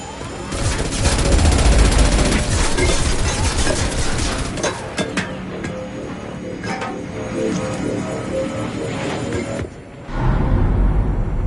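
Sustained gunfire in Mass Effect 2 during Kasumi's DLC mission, a dense loud barrage of rapid shots and impacts that eases midway, then resumes after a brief lull, with no talk over it.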